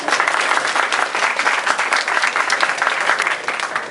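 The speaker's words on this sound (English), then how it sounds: "please, a round of applause for my friends from Richmond" At a Diwali celebration, an audience applauds friends from Richmond with loud, close, continuous clapping throughout roughly four seconds.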